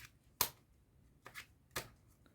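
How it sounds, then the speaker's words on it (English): Playing cards are cut and shuffled close by, giving three crisp riffling flicks spread over a couple of seconds in a quiet room with no talking. "We can do a forward shuffle, or you can do even a cut."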